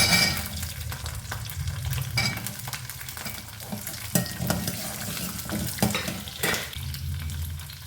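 Shallots and garlic frying in hot oil with fenugreek for a Palakkad-style green chilli mandi, a steady close sizzle broken by frequent stirring clatters and scrapes, with no talking.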